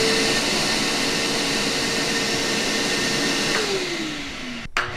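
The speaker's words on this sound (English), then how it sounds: "When I first turn on the vacuum" A vacuum cleaner running from a portable power station roars with a loud, steady whine throughout, its motor pitch sliding downward near the end before a short clunk.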